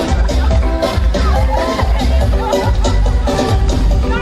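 A roadside crowd cheers and whoops at a national baton relay for Independence in Vieux Fort, Saint Lucia, loud close babble of many voices with shouts throughout.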